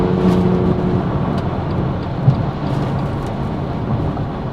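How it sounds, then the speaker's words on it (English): Interior rumble of a car driving through rain, a steady low road drone with hissing spray and a brief thump. "Keeping it steady in the rain, obviously."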